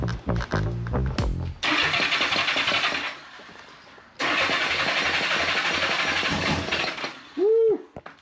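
A 1975 Honda Goldwing 1000cc motorcycle with the choke on cranks and catches, firing into two loud, rough bursts of running engine separated by a brief cutout, up close.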